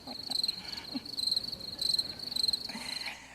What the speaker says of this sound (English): You can cue the crickets.